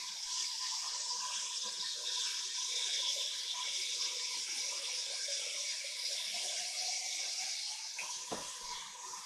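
Hot water runs steadily from a household tap, a constant soft hiss that stays even and fairly faint throughout, with no talking.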